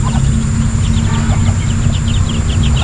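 Ducklings and chickens in a small backyard farm peep in rapid, high repeated chirps, close and continuous over a loud, steady low hum.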